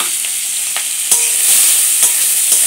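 Chopped onions fry in a pan with a steady high hiss, broken by a few soft stirring scrapes and a louder clack about halfway through; no one speaks.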